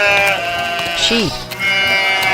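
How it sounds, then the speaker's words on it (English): A single short sheep bleat rises briefly and clearly over a constant musical background, with no other animals audible. "Sheep. Sheep. Sheep."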